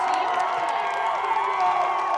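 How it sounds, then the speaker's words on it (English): A crowd at a women's college ultimate frisbee championship semifinal erupts in loud, sustained cheering and shouting, a dense roar filling the whole moment without a break. "And Titcomb with the D, and the crowd erupts."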